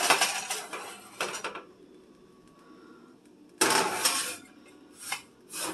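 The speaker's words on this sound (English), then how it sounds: "I always put a pan like this on a cookie sheet so it's easy to put into the oven" Metal baking pan set down on a cookie sheet, bright clanking and scraping of metal on metal in two bursts separated by a quiet gap, close and fairly loud.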